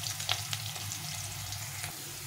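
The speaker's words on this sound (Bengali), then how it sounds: "আলুটা একটু ভেজে নেব।" Potato pieces fry in hot oil, a steady close sizzle with a few brief pops and stirring clicks.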